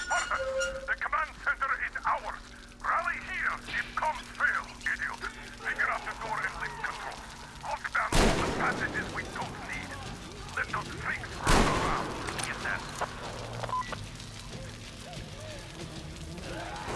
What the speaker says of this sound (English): that was a bit loud for my pistol